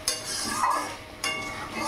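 Metal spoon scraping and clinking against a pan while spices with coriander powder are slowly stir-fried on low gas for a bhetki fish curry, a couple of sharp clinks over soft continuous scraping, close and fairly quiet.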